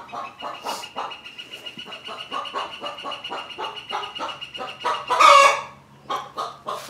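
Several chickens cluck in a steady, rapid series close by, with a sharp, loud squawk breaking out near the end.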